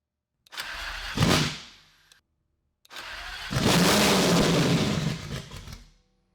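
A newly built V12 racecar engine cranks and catches in a short burst that dies away. After a pause it fires again and holds a loud, steady, rough idle for a few seconds before cutting off.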